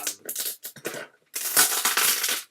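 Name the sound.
tearing open a cardboard box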